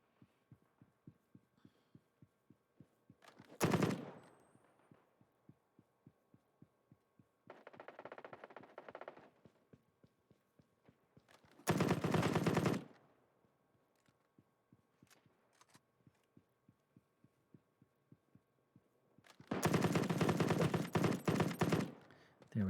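Machine gun fire in the shooter game Battle Prime, loud sustained bursts of automatic fire in three or four separate volleys over a steady thumping background beat.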